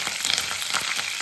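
Hot oil sizzles and crackles steadily as curry leaves and green chillies go into a tempering with chana dal and urad dal, a loud continuous fry close by with no voices.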